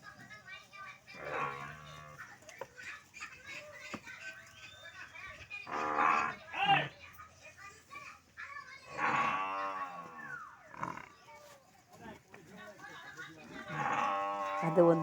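Several water buffaloes in a herd low and moo in long, drawn-out calls at intervals, moderately near, with people talking in between and over the calls.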